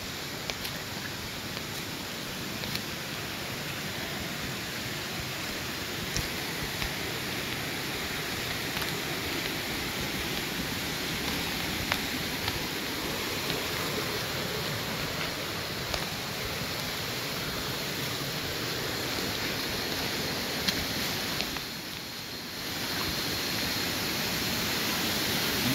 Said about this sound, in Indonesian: Ini ada air terjun di atas.